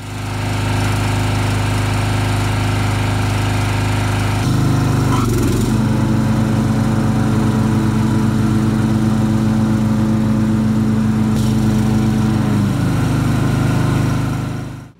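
Older Craftsman riding lawnmower with a freshly replaced deck belt, running at a loud, steady drone close by; a few seconds in, the mower deck engages with a clunk and shift in tone, then disengages near the end before the engine cuts off.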